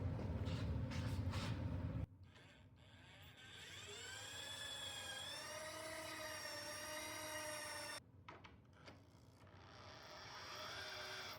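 Power driver spinning a bolt into a portable target's socket with a washer, a loud whirring motor whose pitch rises and sustains, with brief pauses between bursts.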